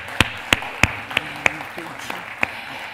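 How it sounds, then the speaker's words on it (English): Sparse clapping at a demo day event: about seven distinct, sharp claps spaced roughly a third of a second apart, close and fairly loud over a quiet room background. "I guess I'll ask another round of applause for our 16 funders who pitched today"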